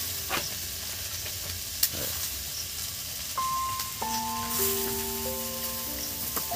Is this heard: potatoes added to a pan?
yes